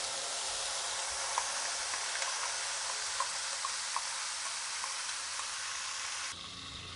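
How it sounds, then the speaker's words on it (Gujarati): Chili paste sizzles and fries in a kadai over a low flame, a steady close hiss with small crackles and pops, alone without talk, dropping slightly in level near the end. "મરચાંની પેસ્ટ એકદમ સારી રીતે સાંતળી લેશું"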